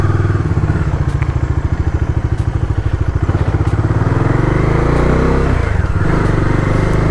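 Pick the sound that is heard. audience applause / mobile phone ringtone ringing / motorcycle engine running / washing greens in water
motorcycle engine running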